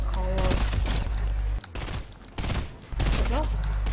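Rapid bursts of automatic gunfire from a Fortnite team deathmatch, loud and dense in several clusters separated by brief lulls, with a player's voice talking over parts of it.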